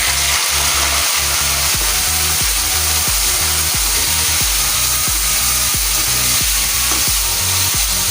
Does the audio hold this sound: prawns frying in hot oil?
yes